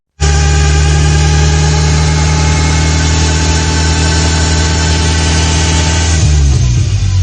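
A loud, constant mechanical drone with deep low rumble and a steady whine from a failing car gearbox and differential under load, shifting slightly near the end.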